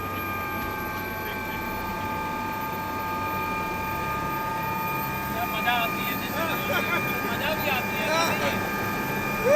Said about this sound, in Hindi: हमारा हेलीकॉप्टर उड़ने के लिए तैयार है